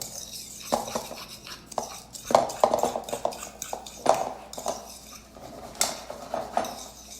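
A spoon stirs a dry mix of paprika, salt and pepper in a bowl, giving close, scattered scraping and clinking against the bowl, with a few louder knocks along the way.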